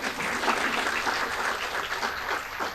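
An audience at a science and technology lecture breaks into dense, steady clapping that holds even and fairly close for the whole stretch, with no speech over it.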